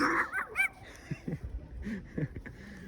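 A dog outdoors on a cold winter day lets out a few quick, high barks and yips near the start, followed by soft laughter and light, scattered sounds.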